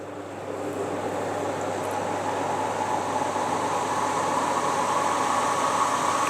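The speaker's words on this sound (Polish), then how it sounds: "Jak słyszymy, wentylator nie osiągnął jeszcze maksymalnej prędkości" An electric fan blows air onto a small wind turbine generator, still spinning up toward its set speed, producing a steady, moderately quiet whooshing hum with a faint tonal drone.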